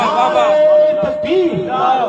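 A large crowd at a religious conference in Rohda, Basti, Uttar Pradesh chants slogans together, a loud, dense mass of voices rising and falling in rhythm.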